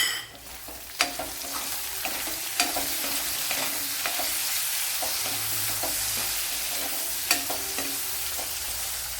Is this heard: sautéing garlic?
yes